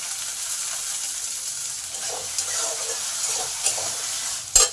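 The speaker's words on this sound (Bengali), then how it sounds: "এটাকে 2 মিনিট ভেজে নেবো" Yardlong beans fry in a pan with curry leaves, making a steady close sizzle with light stirring scrapes and a sharp utensil clank near the end.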